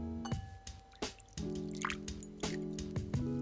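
Warm water is poured into a bowl for soaking a mani bomb, a close series of drips and splashy liquid bursts interrupting a steady filling tone, with no voice.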